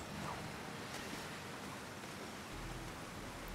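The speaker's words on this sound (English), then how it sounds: "Maybe it's this waterfall." Waterfall in the Ratchet and Clank game on PS4, heard as a steady, broad rushing wash of water that continues evenly throughout with no talking.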